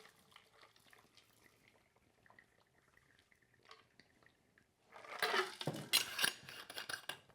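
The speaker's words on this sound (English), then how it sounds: "Then we'll take and pour our cocktail into the glass." A cocktail is poured into a glass of pebble ice at a bar, a soft liquid splash and crackling ice rising after several quiet seconds of faint clinks and drips.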